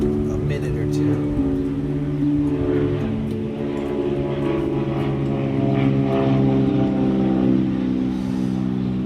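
A propeller airplane drones overhead near Hermosa Beach, California, a steady low engine hum with layered harmonics that holds loud for the whole stretch, with faint voices and crowd noise underneath.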